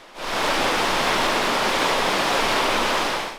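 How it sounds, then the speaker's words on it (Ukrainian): An underground river flows through a cave, a loud, steady rushing roar of water that swells in quickly and holds evenly throughout with no voices. "А це підземна річка, яка й утворила всі шість поверхів печери."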